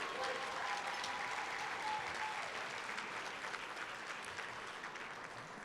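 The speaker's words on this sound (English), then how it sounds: "Give him a round of applause, he and his wife." An audience at a legislative conference applauds a newly elected state representative and his wife, steady clapping from a large crowd that holds level and slowly fades, heard from a distance.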